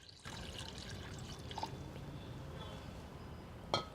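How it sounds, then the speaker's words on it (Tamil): About 150 ml of water pours steadily into a pot for an herbal tea, a continuous splashing stream lasting several seconds at close range. "ஒரு நூற்றம்பது எம்எல் தண்ணீர் வந்து நம்ம சேர்த்துக்கலாம்"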